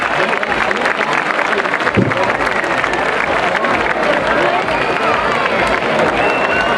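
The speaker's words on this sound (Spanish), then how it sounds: "una fuertísima ovación." Crowd applause and cheering at the Fira de Canals 2011 bull festival, a dense continuous roar of clapping and voices holding steady throughout with a brief thump near the start.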